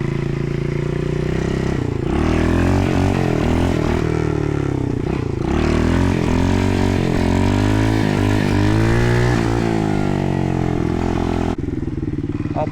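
A small 110 automatic pit bike is ridden for wheelies on a backyard pit bike track. Its engine buzzes loudly and close throughout, rising and falling with repeated throttle blips, with a brief dip near the end.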